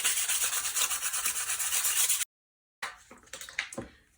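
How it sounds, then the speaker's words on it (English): Sandpaper rubs in quick back-and-forth strokes, roughing up the smooth edges of a mixed media junk art piece; close and scratchy, pausing briefly before a few softer rubs resume. "A bit of sandpaper and just rough up the smooth edges."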